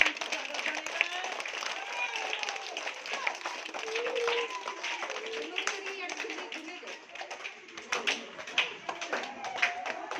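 Children clap together at a primary school entrance festival in Odisha, with dense, steady applause carrying through the whole stretch while voices and chatter run underneath.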